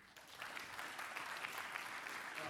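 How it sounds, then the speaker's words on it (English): An audience at the Stormwater Conference & Expo 2026, in an industrial runoff session, gives a short, even round of applause that sounds distant and fairly faint and holds steady for a couple of seconds. "All right, round of applause, please."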